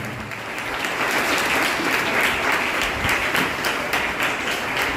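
A church congregation at RCM Church in Proddatur claps steadily to welcome Father Jeevan Kumar, a thick continuous wash of applause that swells slightly and holds throughout.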